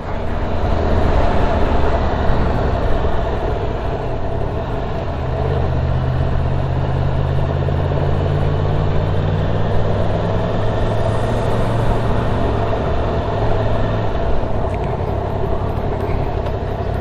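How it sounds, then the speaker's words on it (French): A 2022 Yamaha MT-10 motorcycle engine runs at low revs while riding, a loud, steady low drone with a deep tone that holds throughout, mixed with road and wind noise and no talk. "Je suis assez étonné de la souplesse du moteur même à bas régime."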